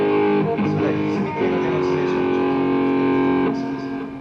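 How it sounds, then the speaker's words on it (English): Electric guitar played through a distortion effect, ringing out in loud, sustained, buzzy tones for about four seconds before easing off slightly at the end. "Oh, the distortion sound."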